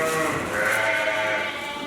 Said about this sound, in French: Ces moutons de race améliorée, appelés au Sénégal ladoum, sont une véritable coqueluche du milieu de l'élevage local.